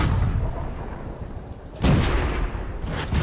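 A single heavy boom of tank cannon fire in World of Tanks, loud and sudden partway through, with rumbling battle noise before and after and no voices.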